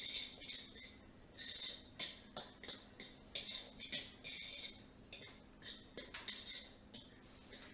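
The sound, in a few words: fork mixing dry scone ingredients in a bowl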